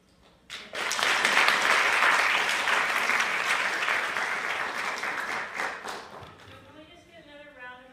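Sustained crowd applause at a TCU FACES event, starting abruptly, holding steady and loud for several seconds, then fading out as a voice begins speaking near the end.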